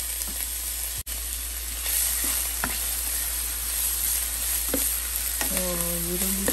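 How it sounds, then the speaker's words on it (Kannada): Chopped onions frying in hot oil and ghee with whole spices, a steady loud sizzle and hiss close by, broken by a few stirring knocks, with a brief voice near the end. "ಸೊ ಈರುಳ್ಳಿ ಚೆನ್ನಾಗಿ ಸ್ವಲ್ಪ ಬ್ರೌನ್ ಆಗಲಿ"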